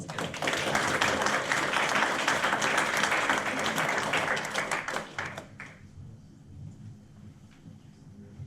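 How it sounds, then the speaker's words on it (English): An audience at a Melbourne Python meetup claps for a speaker, a loud dense round of applause lasting about five seconds before tapering off into a quiet room. "let's give Kai a round of applause again"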